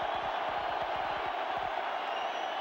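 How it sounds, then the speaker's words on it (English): A college football stadium crowd at Nebraska versus Colorado roars as a steady, dense wash of distant noise, with a low rumble that fades partway through. "Crowd trying to make it as difficult as possible down there for Stewart."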